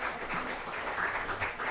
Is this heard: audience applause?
yes